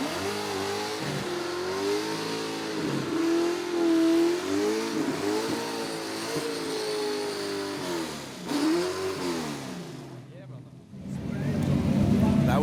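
A car slides sideways past a tow car on an advertising shoot, engine revving in rising and falling surges with wavering pitch, then cutting out briefly before roaring back loud at the end.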